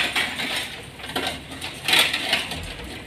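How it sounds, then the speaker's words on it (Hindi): Ice cubes clatter and tinkle into a glass of fresh pineapple juice sweetened with sugar, a few quick bright knocks and rattles over a steady background hiss. "तो हम आइस डालेंगे।"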